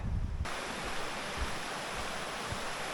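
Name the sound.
river flowing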